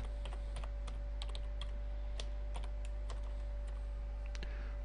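A password is typed on a computer keyboard in a quick, irregular run of faint key clicks over a steady low hum, with no voices.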